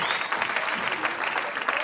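Sustained audience applause at a live student showcase event, dense and steady clapping throughout with no talk over it.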